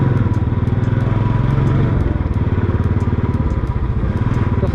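A motorcycle is ridden on a road toward Lakeside, its engine producing a close, steady, rapid chugging pulse with faint clattering ticks above it, continuous and loud throughout, without speech.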